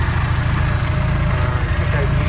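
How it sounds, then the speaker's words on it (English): A 1275 Mini engine fitted with a supercharger and decompression plate idles nearby in a steady low rumble for a couple of seconds, with no speech over it. "So this is the engine running."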